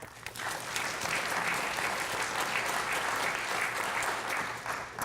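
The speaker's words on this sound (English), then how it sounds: "So if we can all give a round of applause for Will Sanders" Sustained audience applause at a robotics-in-manufacturing talk at Carnegie Mellon, a steady wash of many hands clapping for about five seconds at even loudness, with no speech over it.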